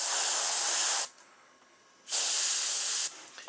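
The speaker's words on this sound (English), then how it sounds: "we're going to spray the gill covers" Two long bursts of aerosol spray paint hiss onto the gill covers of a taxidermy bass, each about a second, separated by a quiet pause, with a third burst starting at the end.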